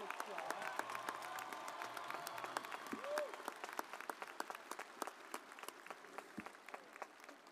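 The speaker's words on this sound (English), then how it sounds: "would you please join me in a round of applause thanking the Greenway Band" A high school commencement crowd at Greenway High School applauds the school band, a broad, moderate wash of many hands clapping that slowly thins, with scattered sharper claps and brief faint tones mixed in.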